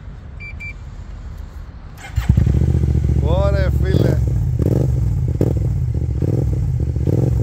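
Kymco AK550 Premium scooter with carbon fiber front, engine revving loudly and steadily up close, with short throttle blips and someone speaking briefly over the start.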